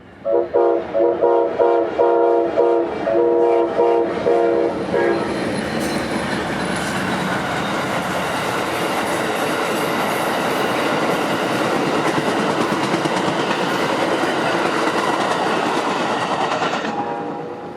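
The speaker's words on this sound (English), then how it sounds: "trains like Amtrak 91 running a bit late today, coming into Tampa from the north, bound for Miami" An Amtrak passenger train, Amtrak 91 near Tampa bound for Miami, rumbles past close by, horn sounding in short blasts at first, then a long roar of wheels and cars that fades at the end.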